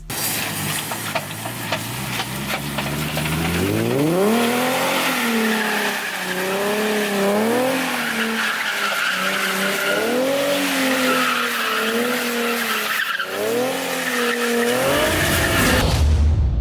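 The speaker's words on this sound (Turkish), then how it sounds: "arabanın gazına bir anda oturduğumuzda arabanın arkası kopacaktır ve merkez kaç kuvveti gereği araba drift yapmaya başlayacaktır" A car engine revs hard while tires squeal continuously as it slides through long drifts, loud and close, pitch rising and falling with each slide.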